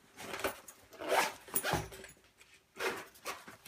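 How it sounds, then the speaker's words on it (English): A removable liner is zipped into a Travelpro FlightCrew5 Large Crew Cooler: several close, scratchy zipper strokes come in uneven bursts with short pauses between them, and nobody speaks. "Zips in and out fairly easily."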